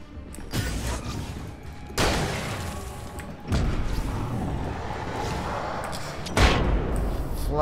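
Heavy booming blasts from flashbang explosions in the video game Alan Wake, four distinct thuds spaced a second or two apart, each followed by a dense rumbling tail over a busy game soundscape.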